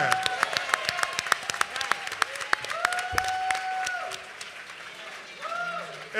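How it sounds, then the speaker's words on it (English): Convention audience applauding, with distinct sharp claps spread across the crowd at a steady moderate level, while a speaker's voice carries on over the clapping throughout. "Y'all give a round of applause to King Corey Wise, the exonerated fine."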